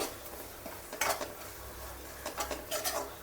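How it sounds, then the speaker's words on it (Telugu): Masala frying in a pan for mutton curry, with soft steady sizzling under scraping and clinking of a spoon against the pan, several stirring strokes near the middle and end. "ఇప్పుడైతే మసాలా వేసాం కదా ఇదైతే వేగుతుంది"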